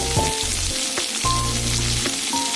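Radhuni seeds tempering in hot oil in a Bengali home kitchen, giving a steady close sizzle and fry with a few soft stirring clinks throughout.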